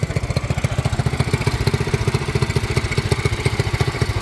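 A Predator 212 engine fitted to a John Deere 110 lawn tractor runs close by, a loud, rapid, evenly pulsing putter throughout with no voices.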